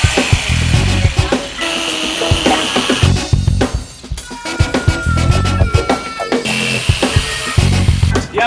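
A wooden side panel for an MTB/BMX ramp is sawn, with loud, close, rhythmic cutting strokes and brief pauses over several seconds.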